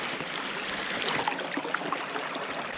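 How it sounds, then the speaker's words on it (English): A stream flows behind an old mill, a steady broadband rush of water with small gurgles and trickles throughout, fairly close and continuous, no talking. "You hear the water flowing."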